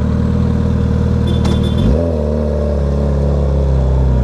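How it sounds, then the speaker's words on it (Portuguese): A Suzuki Hayabusa motorcycle engine roars close by, holding high revs before the pitch drops sharply and settles into a steady, lower drone. "Agora a bicha tá acelerando demais, freando demais."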